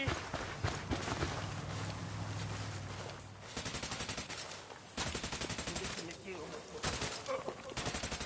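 Rapid automatic gunfire in the video game Ghost Recon Wildlands crackles in repeated bursts over dense battle noise, with some shots close and loud.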